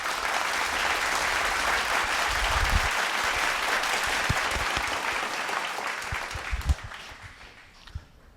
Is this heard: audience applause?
yes